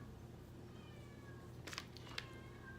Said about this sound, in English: I don't know if you can hear him crying in the room now